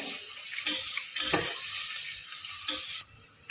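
Onions frying in a pan for Karnataka-style chicken biryani, a steady close sizzle with a few scraping stirs of a spoon, then the hiss eases off near the end, with no one talking.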